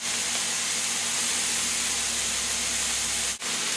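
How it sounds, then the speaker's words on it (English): Steak sears in a hot pan alongside mushrooms and onion for peppersteak, a loud, continuous close-up sizzle with a brief dip just before the end. "And with these, we're just searing the outside."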